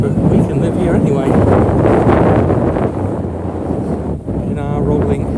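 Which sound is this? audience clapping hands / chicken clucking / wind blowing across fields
wind blowing across fields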